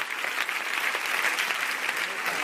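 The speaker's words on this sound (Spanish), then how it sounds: "Aplausos, por favor" Sustained audience applause, a dense steady wash of many hands clapping at moderate volume with no voices over it.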